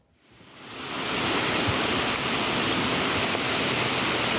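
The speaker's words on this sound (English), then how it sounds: "This time of year, a rainy evening, is perfect motivation to stay in." Steady spring rain falls on an evening in Maine, a dense even hiss that swells in over the first second and then holds constant with no voices.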